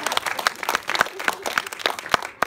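Audience at a variety show in a Singapore theatre applauding a violin bow balancing trick, scattered distinct claps building into lively, uneven applause, fairly close and without talk.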